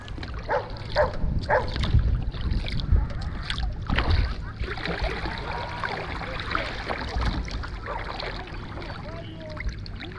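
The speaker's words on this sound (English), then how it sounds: "dogs barking" Dogs bark now and then near a lake launching area, mixed with water splashing, paddling and distant voices of people chattering outdoors, moderately faint in the open air.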